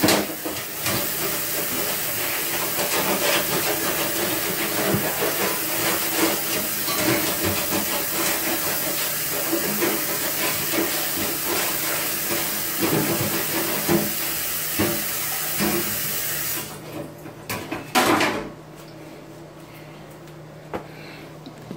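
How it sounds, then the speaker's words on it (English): A pan is rinsed under a running kitchen faucet, a steady loud hissing rush of water lasting most of the time before it shuts off, followed by a few clanks and quieter sounds. "Rinse this pan off real quick before it gets all sticky and it's easier to wash."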